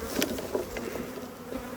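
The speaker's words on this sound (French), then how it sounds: "vous voyez, les abeilles sont en train de remonter quand même là" Honeybees buzz at an opened hive after smoking, a steady close swarm drone with a few louder passes of individual bees flying near.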